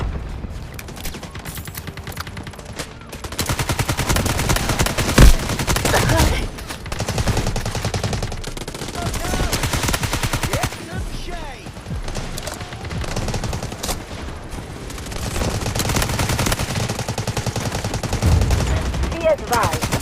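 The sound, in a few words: gunfire and artillery barrage in Delta Force Mobile video game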